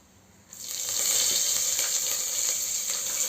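Curry leaves and whole spices sizzle sharply in hot oil, a loud hiss bursting in abruptly after a brief quiet moment and holding steady to the end, with faint crackles along the way.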